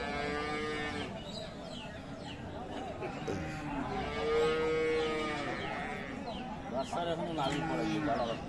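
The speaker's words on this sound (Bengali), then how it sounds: "এটা অল্প বয়সের গাভী" At the Aftabganj cattle market in Dinajpur, a young Friesian cow moos once, long and clear, in the middle, with fainter lowing around it over low crowd murmur and talk.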